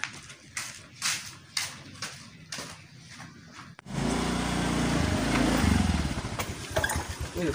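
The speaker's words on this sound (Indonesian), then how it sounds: "Motor geus aya ya." A motorcycle engine rumbles into life partway through and keeps running loud and close, after a run of separate knocks and thumps.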